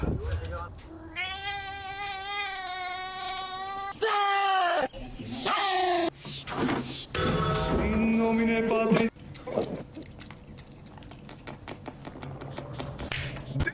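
A cat yowls and meows in a series of drawn-out, wavering cries, loud and close, with people's voices reacting in between.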